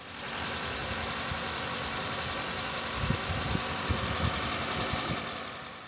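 A Renault Clio's naturally aspirated 1.8-litre four-cylinder petrol engine runs at a steady idle, a faint, even hum with a few soft knocks near the middle.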